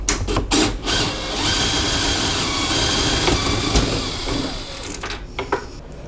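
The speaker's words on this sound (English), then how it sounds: "I'm using my offset head on my install driver to take out the bolt" An impact driver fitted with an offset head runs continuously while backing out a microwave mounting bolt, a close, loud whir with rattling after a few short starts, then stopping.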